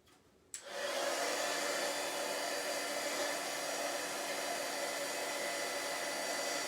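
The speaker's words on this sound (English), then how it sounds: "Bring in our heat tool, so this could be noisy for a couple seconds." An embossing heat tool switches on with a click and blows a loud, steady roar at close range, melting metallic embossing powder on a card, with no voices over it.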